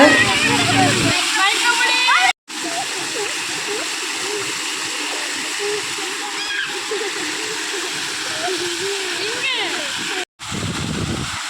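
Steady rushing and splashing of motor-pumped water fills the scene, with lively voices and shouts of people bathing and playing in it throughout.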